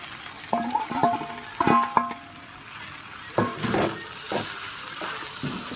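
Fried prawns tipped into flat beans in a frying pan, a few sharp clattering drops and scrapes over a soft sizzle, quiet and close, no talking.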